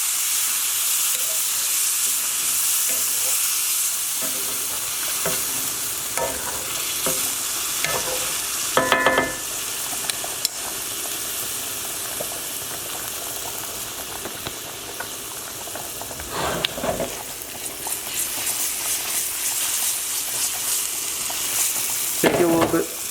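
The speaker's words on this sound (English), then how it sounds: "Just let it simmer, let it hang out." Shrimp and chorizo spaghetti sauce bubbles steadily in a pan over a low flame, giving a continuous soft sizzle and hiss with occasional louder stirring scrapes and clinks partway through.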